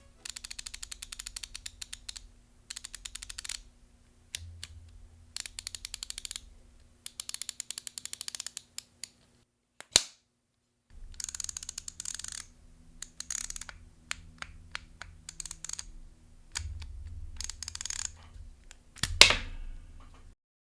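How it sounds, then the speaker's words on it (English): Two ratcheting screwdrivers, a Husky and an LTT, clicking in alternating bursts of rapid ratchet ticks, close and crisp, with brief pauses between runs and no talking. "if you're listening to the ratcheting sounds side by side"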